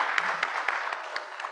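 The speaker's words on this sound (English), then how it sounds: "let us give a big applause to the panelists for their participation" A workshop audience applauds the panelists, a dense, steady wash of clapping from many hands that carries on without a break.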